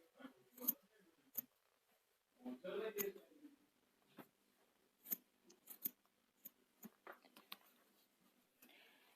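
Sharp snips of scissors cutting embroidery thread, several quick isolated clicks spread out over a quiet background, with a brief stretch of talking in between.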